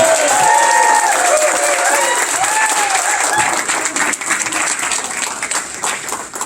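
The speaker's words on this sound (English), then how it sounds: "give a huge round of applause to Harold for selling so many tickets" A crowd at a district sales event gives a sustained round of applause for a top ticket seller, dense and loud from the start, with some voices and cheers mixed in, thinning slightly toward the end.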